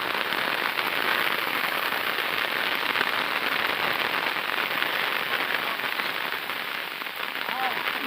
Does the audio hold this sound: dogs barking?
no